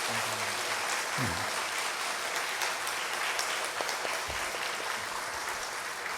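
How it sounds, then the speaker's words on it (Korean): A church congregation at a Sunday worship service applauds to encourage a group of children, a steady wash of many hands clapping at moderate distance, with a few brief voices and low murmurs underneath. "이들에게 박수로 한번 격려해 주시기 바라겠습니다."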